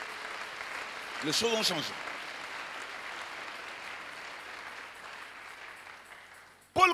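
Brief applause from a church congregation during a French-language sermon, with one short clap burst early and another at the very end, while a preacher's voice carries on between them.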